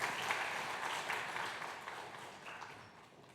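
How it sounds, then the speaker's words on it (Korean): Church congregation applauding after a baptism during a Sunday worship service, a steady broad patter of many hands clapping throughout, moderately distant and gradually fading toward the end. "박수 부탁합니다."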